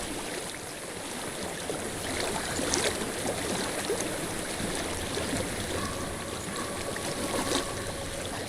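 Steady broadband rush of a flowing stream in Hellblade: Senua's Sacrifice, continuous and fairly close, with faint trickling detail and no talking.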